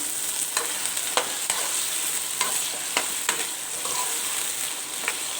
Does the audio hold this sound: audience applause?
no